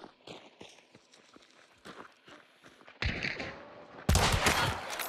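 Gunfire in the game Hunt: Showdown, with scattered thuds and footsteps first, then loud, dense bursts of shots that swell toward the end.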